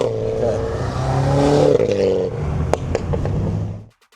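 A Mini Cooper engine breathing through a carbon fibre intake, revving up in a rising throaty roar, close and loud, then a couple of sharp pops and clatter as it drops off to silence.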